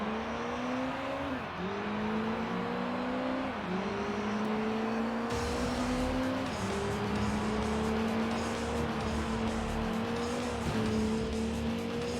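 A race car engine in Gran Turismo 3, droning steadily through repeated upshifts, each gear rising in pitch then dropping, with continuous road and tire noise.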